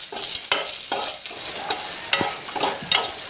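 Onion, garlic and curry leaves fry in a pan for a dried prawn chutney while a spoon stirs them, giving a continuous crackling sizzle broken by several sharp scraping knocks against the pan, close and without talk.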